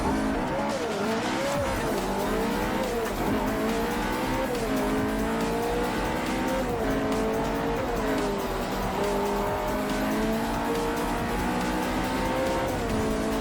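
Race cars in the Forza Motorsport 4 racing game, engines wailing continuously and shifting in pitch through corners, with tire squeal and skidding under a steady, dense roar.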